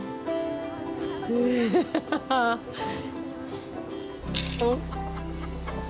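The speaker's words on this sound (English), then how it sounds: "get hands-on with the chickens so they get used to the family" A newly delivered flock of chickens on a farm clucks and chatters in uneven bursts, close and fairly loud, with a low hum entering partway through.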